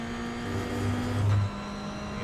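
A Toyota GR86 engine in the racing simulator iRacing drones steadily as it accelerates on track, its tone rising slightly and then easing off, close and continuous.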